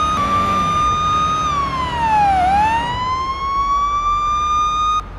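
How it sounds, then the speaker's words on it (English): A police SUV siren in the game Police Simulator: Patrol Officers, an LASD patrol vehicle, wails loud and close as a steady tone that sweeps down and back up once, with no voices. "we're still going to respond with lights and siren"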